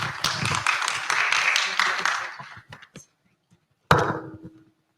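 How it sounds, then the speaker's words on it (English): An audience at a conference on HIV prevention technologies gives the speakers a loud round of applause that fades out, followed by a short second burst of clapping. "Let's give another round of applause to all our speakers"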